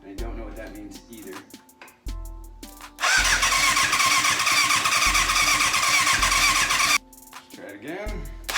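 A 1988 Yamaha FZ750 motorcycle being rebuilt, with a fuel pump issue and possible flooding, turns over on its starter in short bursts, then catches and runs roughly at a loud, steady idle for about four seconds before cutting out.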